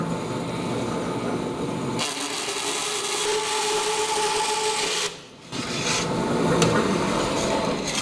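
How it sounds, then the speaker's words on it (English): An 18 gauge sheet metal panel for rust repair on a 1949 Chevrolet gasser being cut out with a steady, loud rasping and grinding cut that runs continuously, pausing briefly once before resuming, with no talking. "We'll trace our pattern out on a piece of metal. This happens to be 18 gauge. And we'll go cut it out."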